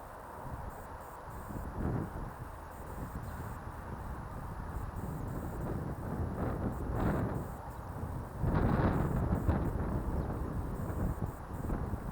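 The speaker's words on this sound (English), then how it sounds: "Oh, the wind's terrible." Strong wind blows across a lakeside fishing spot, buffeting close by in rumbling gusts that swell and fade, with the heaviest blast near the end.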